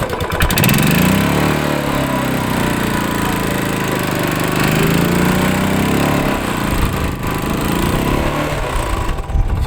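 A motorcycle engine revving as the bike is ridden through deep desert sand, a loud, close, continuous buzzing roar that rises and falls in pitch, with no talk.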